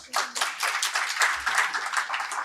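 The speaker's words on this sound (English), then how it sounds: "That, I think, deserves a round of applause." Conference audience applause in a main hall, a burst of brisk hand clapping from a smallish crowd, close and lively for a couple of seconds.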